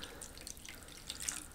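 Water being poured back into a container during an evaporation experiment makes a faint, steady splashing trickle, close by and quiet, with no voices.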